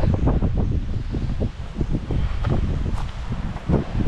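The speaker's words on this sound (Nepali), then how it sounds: "डाँडामा भन्दा पनि यहाँ हावा लागेको छ मस्त" Wind gusts buffet the microphone in a continuous, loud rumble with rustling bursts on a beach in Seychelles, with no clear voices over it.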